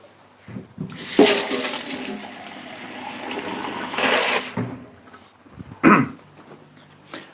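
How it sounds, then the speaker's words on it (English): Tap water gushes into an empty tomato tin in a home kitchen, a loud, steady splashing stream that lasts a few seconds and then stops. A brief throat-clear or clatter follows. "fill it up with water"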